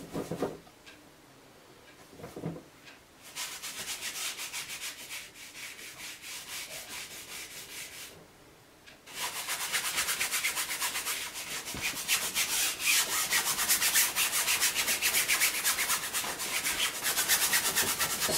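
A wide house-painting brush sweeps blue paint over a white canvas, making close, dry rasping strokes that come in bursts with short pauses before a longer run of continuous brisk scrubbing.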